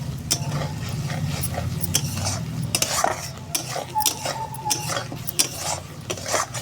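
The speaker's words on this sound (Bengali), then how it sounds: "আমি মশলাটা এখন ভালো করে কষিয়ে ফেলছি, যতক্ষণ না তেলটা উপরে উঠছে ভালো করে কষাবো।" Spice masala fries in oil in a pan while a spoon stirs and scrapes against the metal in repeated clattering strokes over a low steady sizzle, close by and with no talking.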